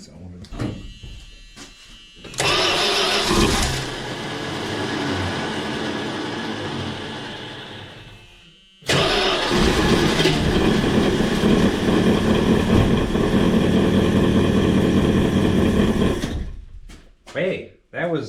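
A Dodge Diplomat engine that has sat for 18 years cranks and fires in two long, loud attempts, the first lasting about six seconds and the second about eight, separated by a brief pause, with voices around them.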